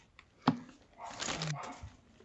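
A small dog lets out a single sharp yelp, then a drawn-out whining whimper, heard close in a quiet room.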